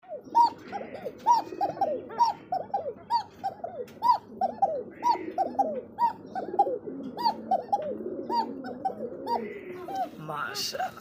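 Racer and Danish pigeons, a male and female pair, coo in a steady series of repeated throaty calls, close and clear, with chirps scattered in the background.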